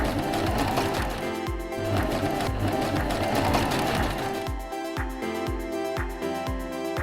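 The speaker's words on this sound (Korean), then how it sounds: "이런 모양으로 바느질을 해서 만들 거예요." A sewing machine stitches fabric for a small hanbok for a 50cm ball-jointed doll, its needle chattering in a fast, steady rhythm close by, with brief pauses and a slight shift in pace partway through.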